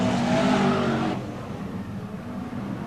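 BriSCA Formula 1 stock cars race at Kings Lynn, a loud engine roar passing close by and then fading into a rumbling pack of distant motors.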